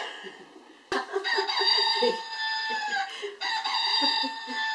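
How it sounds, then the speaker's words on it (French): A pet rooster crows loudly and close, two long cock-a-doodle-doo calls with clucking from hens and another bird in between, no talking over them. "C'est ça, c'est mon coq."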